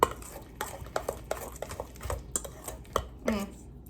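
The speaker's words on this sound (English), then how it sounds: "I'll start with the masher, and then I'll do the remaining mixing with the spoon." Banana bread batter being worked with a masher and then a spoon in a bowl, giving a run of scattered, close utensil clicks and knocks against the bowl with soft squelching between them.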